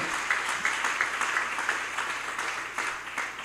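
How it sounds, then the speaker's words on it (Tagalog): A church congregation applauds its Lord, with steady, fairly soft clapping from many hands filling the room throughout. "Palakpakan natin ang ating pinakamamahal na Panginoon."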